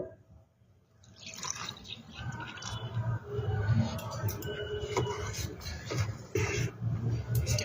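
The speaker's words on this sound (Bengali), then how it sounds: "এবার জল দিয়ে আমি একটা ডো তৈরি করে নেব" Water is poured into an egg pakora batter and mixed by hand, giving a steady wet splashing and dripping that grows after a quiet start and continues without talk.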